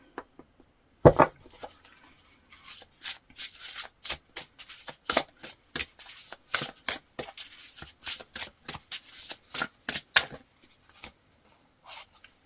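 Oracle cards being shuffled by hand, a close series of quick papery riffles and slides in uneven bursts, starting with one sharp rustle and continuing with repeated shuffles before trailing off.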